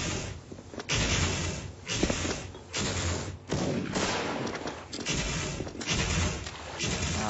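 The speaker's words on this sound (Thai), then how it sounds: "ตอนนี้นี่มีเสียงปืนยิงกัน" Gunfire during a Special Force match on a bridge map, heard as dense, loud bursts of shots and thuds that come in repeated clusters with short gaps, filling the whole stretch.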